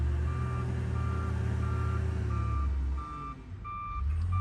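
An old Farmall loader working at a sawmill sounds a steady reversing beeper, regular evenly spaced beeps over a rumbling diesel engine, with a brief dip in the engine before it picks up again.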